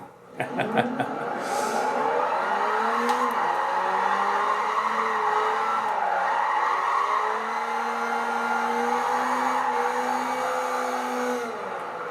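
Gran Turismo 5 video game car, a Nissan Silvia S14 with Aero kit, drifts under e-brake, tyres skidding and engine droning steadily before spinning out, loud and continuous for most of the stretch.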